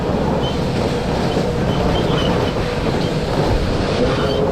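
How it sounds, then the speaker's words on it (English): Ghost train ride running along its track on a seaside pier, a loud continuous rumbling roll of wheels and carriage noise throughout, with no voices. "Brilliant ghost train here."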